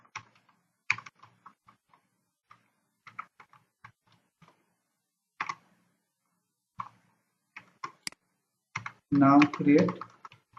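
Scattered keystrokes on a computer keyboard tap out in short irregular bursts, fairly close and crisp, with a brief stretch of speech near the end.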